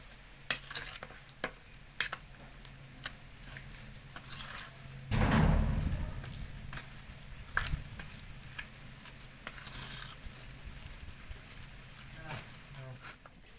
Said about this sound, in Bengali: সব একসঙ্গে আমি মেখে নেব।